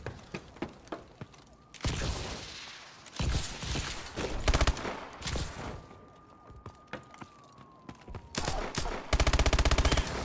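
Gunfire in a first-person shooter video game: sharp single shots and rapid automatic bursts come in irregular clusters, close and loud, between quieter gaps.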